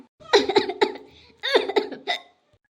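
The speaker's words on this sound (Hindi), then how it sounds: "का अम्मा खांसी आवत है?" An elderly woman character in a cartoon gives two bursts of harsh, rapid hacking coughs close up, each a quick run of several spasms separated by a short pause.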